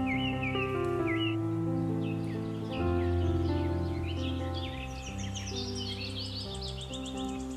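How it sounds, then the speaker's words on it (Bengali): Birds call in quiet countryside near Kolkata: scattered high chirps and twittering calls, some fowl-like clucks, fairly close over a steady tonal background, with nobody speaking. "যেখানে প্রত্যেকটা মুহূর্তে কিন্তু পাখির ডাক,"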